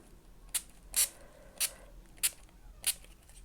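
Five short hissing spritzes of water from a spray bottle at irregular intervals, close and fairly quiet, with no talking.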